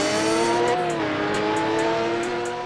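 A 911 GT1 LM race car in a Roblox racing game drifts with its engine holding a steady, buzzing drone, while faint repeated tire-squeal chirps flicker above it.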